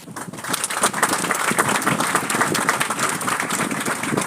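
Dense, steady applause from a conference audience at a territorial conference in Sint Maarten, many hands clapping continuously at close range for several seconds without a break.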